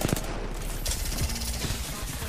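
Rapid bursts of gunfire from weapons in the Apex Legends video game rattle out loud and close, overlapping in a dense fusillade.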